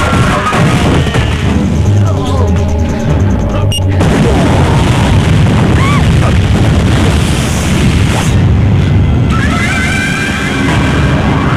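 A bomb explodes in a Hindi action film with a loud, sustained booming roar and rumbling debris, layered with dense dramatic film sound throughout and no clear speech.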